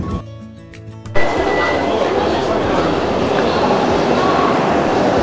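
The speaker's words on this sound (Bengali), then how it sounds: "এখন ট্রেন প্রায় একশো সাতাশ কিলোমিটার পার আওয়ারে চলছে" A Vande Bharat Express running at about 127 km/h on the approach to Cuttack gives a loud, steady rushing rumble of wheels and rails. It follows a short tonal hum at the very start and carries on without a break.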